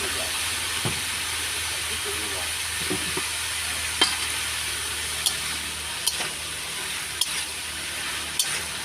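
Bitter gourd leaves stirred in a hot pan, a steady sizzle with a few sharp clacks of the spatula against the pan at irregular intervals.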